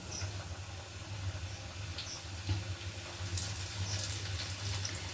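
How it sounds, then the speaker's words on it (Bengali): Chicken pieces dropped into hot oil, frying for a restaurant-style chilli chicken dish: a faint, steady sizzling hiss that stays even throughout with no talk. "এবার তেলের মধ্যে দিয়ে দেবো।"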